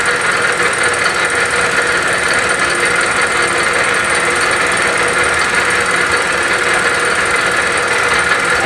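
A fly cutter machines a glued-up wood board with a continuous, loud, harsh whirring and rasping that holds steady throughout, with no talking.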